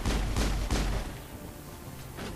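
Two or three sharp booming gunshots from the video game Mass Effect crack in quick succession, then trail off into a faint rumbling tail.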